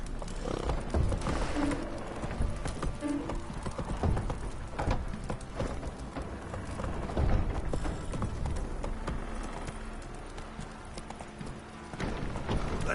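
Roach the horse trotting in The Witcher 3, a continuous rhythmic clip-clop of hooves close by, with dense game ambience underneath and no speech.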